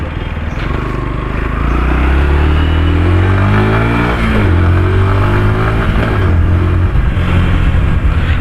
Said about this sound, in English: you have to do a whole lot of effort in order to turn on this motorcycle